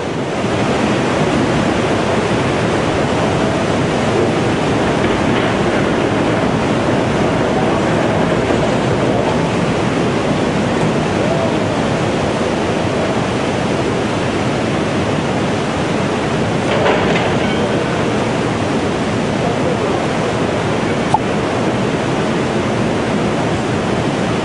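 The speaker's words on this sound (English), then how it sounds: "A massive wall of water that rose as high as 30 feet, swallowing up parts of Japan" A tsunami wall of water up to 30 feet high surges through the seaside cities of northern Japan, a loud, steady roar of rushing water with no voices.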